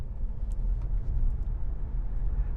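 Low, steady road rumble from inside a BYD Seal electric car driving in chill mode, a soft, continuous drone with no engine roar and no voices.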